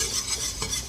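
Flour is stirred into a hot, sizzling roux for venison gravy. A spoon scrapes and stirs steadily against the pan over a soft sizzle, close and continuous, with no voices.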